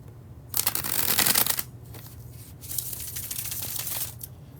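A deck of cards is riffled in a bridge shuffle, two bursts of rapid fluttering clicks, the first dense and loud, the second softer, close up with no talk.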